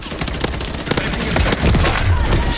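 Rapid sustained bursts from the Rival 9 submachine gun in Modern Warfare 3, loud close automatic fire crackling continuously with dense rhythmic shots and distant impacts, no voices.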